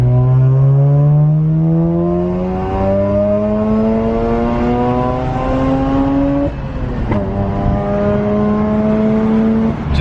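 A Mazda RX8 R3 rotary engine with a cheap aftermarket exhaust revs hard and climbs again and again, the harmonic whine rising steadily to a high pitch, loud and close, with a brief dip mid-way.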